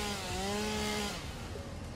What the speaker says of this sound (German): ich habe eine Kettensäge.